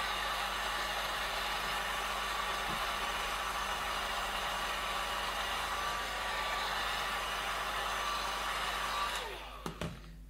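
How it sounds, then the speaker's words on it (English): A hair dryer blows steadily over an alcohol ink painting, a loud continuous whirring roar that runs nearly ten seconds, then cuts off abruptly with a few faint clicks and handling knocks. "in this one I am drying from the top"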